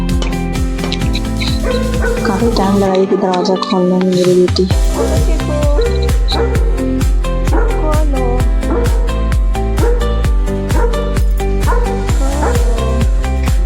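A dog barks repeatedly from inside a house, sharp yelps over rhythmic background music, while someone speaks briefly in Hindi.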